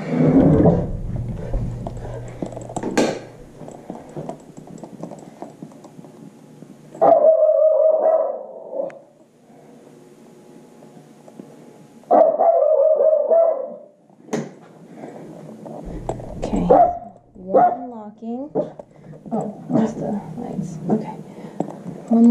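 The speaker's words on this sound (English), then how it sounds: "Don't bark at me!" A pet dog barks and growls indoors in several loud, close bursts scattered through a stretch where a person also talks and calls out to it.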